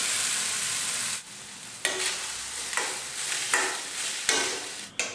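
Cooked rice is stirred into fried coriander in a hot pan. A loud, close sizzle is interrupted by several distinct spatula strokes, about one every half second to second, with no speech.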